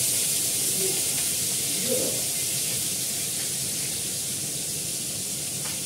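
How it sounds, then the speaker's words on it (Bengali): Onion and ginger paste sizzles in hot oil beside fried fish, giving a continuous broad hiss that stays steady and fairly loud from start to finish. "একটু পেঁয়াজ বাটা দিলাম, আদা বাটা দিলাম"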